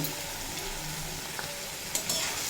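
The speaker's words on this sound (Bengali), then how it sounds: "দিয়ে আবারও দুই তিন মিনিট মতো ভেজে কষিয়ে নেব" Yardlong beans and potatoes with turmeric, chili powder and salt fry in a pan with a soft, continuous sizzle, broken by a few faint scrapes of stirring.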